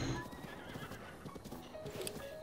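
Horse in Breath of the Wild whinnying while its hooves clip-clop steadily, a close, continuous mix of galloping footfalls and a high neigh toward the end.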